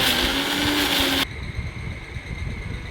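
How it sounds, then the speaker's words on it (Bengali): An electric mixer grinder blending a fried onion and tomato paste for fish curry, a loud high whine that cuts off abruptly after about a second, leaving a quieter low rumble. "এবার গ্রাইন্ডারে দিলাম"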